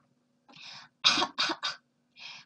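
A short run of coughs: a softer one, then three sharp close coughs in quick succession, followed by a final lighter cough, with silence between.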